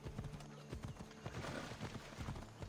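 Horse hooves clip-clop steadily in Assassin's Creed Odyssey, a quick rhythmic run of close, distinct hoofbeats with a faint whinny in the background and no talking.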